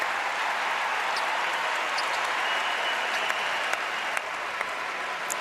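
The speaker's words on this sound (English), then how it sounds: "getting a well-deserved round of applause from this North Carolina crowd" A North Carolina basketball crowd at a Duke vs. UNC game applauds a player heading to rest, a loud, sustained ovation of many hands with occasional sharper claps standing out.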